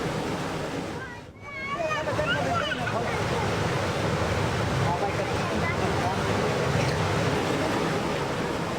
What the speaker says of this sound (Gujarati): ભાદર ડેમ છલકાઈ ગયો છે